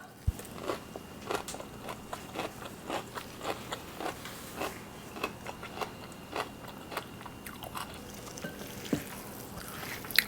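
Close, steady crunchy chewing of a tofu and lettuce salad with perilla seeds and sesame, heard as a regular run of soft crackling bites for about ten seconds with no talking.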